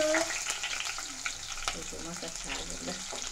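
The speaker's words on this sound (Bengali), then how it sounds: "তো এখানে আমরা তেলের মধ্যে পেঁয়াজ আর মরিচ দিয়ে দেব" Onion and chili hit hot oil for a Bengali greens and small-fish curry, giving a loud, close, steady sizzle and crackle with some stirring and a voice speaking over it.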